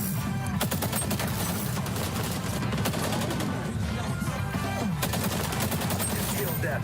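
Shotgun fire from the video game XDefiant rings out in rapid, repeated bursts over busy game audio, with a voice faintly audible underneath.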